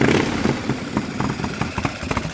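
A motorcycle with an S&S Shovelhead engine, panhead kidney covers and old-school Triumph-style exhaust runs steadily nearby, a loud uneven rumble with rhythmic pulses, no voices.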